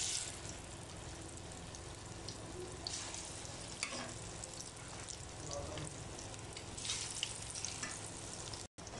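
Spinach pakoras fry in hot oil with a steady, crackling sizzle that continues throughout at a moderate level, with the occasional clink of a spoon and soft kitchen sounds in the background.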